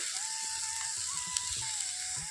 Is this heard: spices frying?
yes